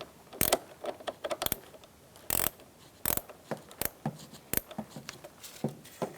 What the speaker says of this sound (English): Using a 10mm wrench or socket, you're going to loosen up your nut on your negative battery terminal.